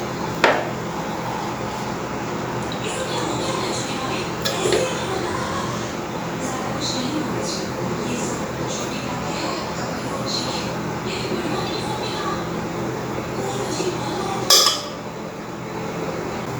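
Dishes and cutlery clink while Goan pork sausage pulao with carrots and capsicum is plated, a few sharp metallic taps and scrapes scattered over steady background hum, with talking throughout.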